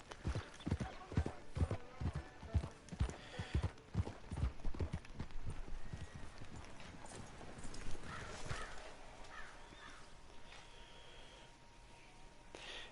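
Horse hooves clip-clop in a steady walking rhythm in Red Dead Redemption 2, close and distinct for several seconds before thinning out, with a faint snort and soft background ambience afterward.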